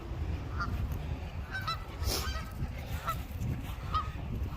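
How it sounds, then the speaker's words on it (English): Honking waterfowl call out repeatedly nearby over a rumbling outdoor background, several short nasal calls scattered across the few seconds, with no talking. "She don't even want these ducks."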